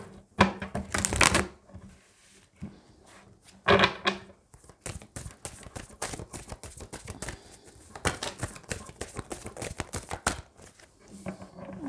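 Tarot cards are shuffled close by in bursts of crisp riffling and soft slapping, with pauses between rounds and no talk during them.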